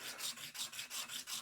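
Metal cylinder heads for a Velocette motorcycle are polished by hand, giving a faint, close, rhythmic rubbing rasp in about six even back-and-forth strokes, with no talking.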